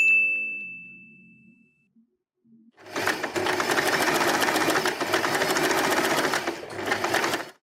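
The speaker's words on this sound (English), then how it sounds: "Take this to the sewing machine and sew this part." A sewing machine stitches fabric for a scrunchie, running steadily for several seconds, its fast mechanical whir loud and close, after a quiet start with a brief chime.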